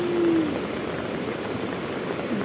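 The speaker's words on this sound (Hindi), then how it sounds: "ये बारिश और ये खड़ जो नाले में आवाज़ आ रही है" Rain falls while a flooded stream rushes through a village gully after flooding, making a steady, even broadband wash of water noise that holds unchanged from start to finish at moderate distance.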